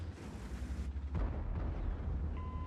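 A tank cannon fires in a tank video game, a heavy boom with a rumbling tail and a second thud, fairly close and dense, with no talking.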